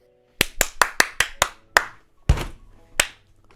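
Close, loud hand claps, about nine sharp separate strikes in a quick run that slows and spreads out toward the end, with no talk over them.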